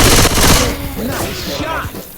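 Bursts of gunfire in the Left 4 Dead 2 Hard Rain campaign, loud and dense at the start, then scattered shots and thumps continue under game noise.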